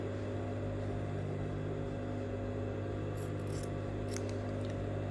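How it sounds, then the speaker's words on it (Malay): Scissors cut fabric for the neck facing of a child's kurta, with a few quick snips heard near the end over a loud, steady machine-like hum. "So untuk bawah ni pun kita kena potong."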